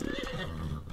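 Horse in the video game ARK neighing, a short rising whinny mixed with a few clip-clop hoof steps, close and fairly quiet, with no talk over it.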